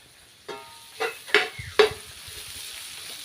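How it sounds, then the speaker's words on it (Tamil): Tamarind and spices sautéing in a pan for a tamarind curry, with a few distinct scraping stir strokes over a soft, steady sizzle, close and fairly quiet, no talking. "இந்த அளவுக்கு புளி எடுத்துருக்கிறேன் இதையும் சேர்த்து வதக்கிக்கலாம்"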